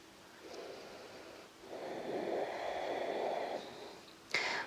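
Slow, soft breaths during a gentle introspective yoga session: a faint inhale followed by a longer, airy exhale, quiet and close, ending with a short sharper breath.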